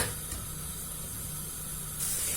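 Shallots and garlic sweating in a pan with a pinch of salt, a steady soft hiss of sizzling with a brighter burst near the end.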